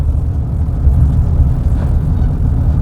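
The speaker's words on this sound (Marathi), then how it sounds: "जबरदस्त ट्रॅफिक आहे. रोडची कामं पण सगळी अपुरी आहेत." Heavy road traffic before dawn, heard from inside a car on a route with unfinished roadworks: a constant, loud, low rumble with no voices.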